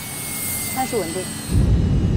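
Airliner jet engines spooling up for takeoff on a runway, a steady roar with a rising whine that swells into a louder, deeper rumble as thrust builds, heard from inside the cockpit with voices over it.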